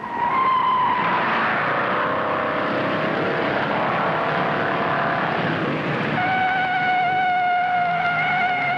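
Stock cars racing in the 1958 Southern 500 stock car race, engines roaring loudly and continuously with a steady whine as cars pass, filling the whole clip without speech.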